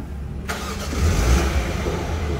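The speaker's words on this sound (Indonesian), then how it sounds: "dan dia ketika mesin dinyalakan" A Mini Countryman John Cooper Works engine cranks and catches after a brief quiet moment, then settles into a loud, steady idle close by.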